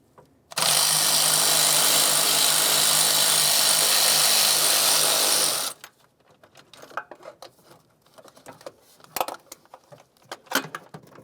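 Power tool removing the rearward starter bolt on a 2004–2015 Nissan Titan: a loud, close whir that runs for about five seconds and then stops, followed by faint clinks and handling noises.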